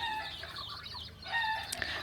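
Farm broiler chicks make soft, continuous clucking and peeping, a busy chatter that swells toward the end, with some louder high chirps near the close.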